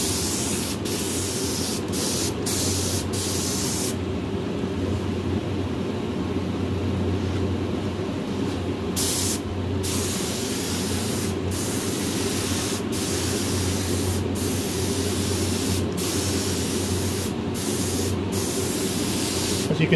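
A spray gun blasts primer and Klass Kote silver epoxy paint, a steady loud hiss that runs unbroken throughout, with faint clicks scattered across it.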